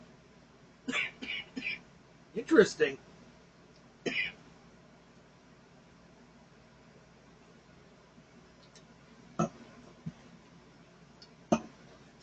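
A person coughs from a throat tickle in a few short, separate bursts spread across a quiet stretch, close to the mic, with a single spoken word among them.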